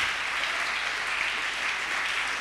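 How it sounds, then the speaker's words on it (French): A church congregation applauds in praise, a dense, even wash of clapping that fills the whole stretch without pause. "Acclamons Jésus."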